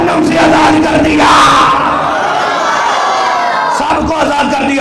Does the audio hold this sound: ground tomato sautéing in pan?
no